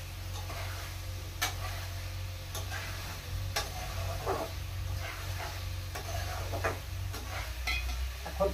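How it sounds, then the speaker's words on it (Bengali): Paneer pieces for matar paneer fry quietly in a pan, a faint sizzle under regular light ticks and scrapes of a spoon moving through them. "এখন পনিরটা দিয়ে দেবো। পনিরটা দিয়ে দিলাম।"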